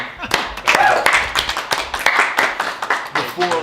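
Audience clapping rises sharply and continues as steady, dense applause with a few voices or cheers mixed in, fairly close and loud.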